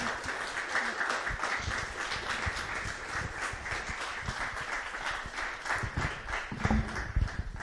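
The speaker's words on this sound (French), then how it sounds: "Et je pense qu'on peut l'applaudir." An audience at a talk on women, Islam and secularism applauds a speaker, with continuous clapping at moderate volume and a few sharper individual claps standing out near the end.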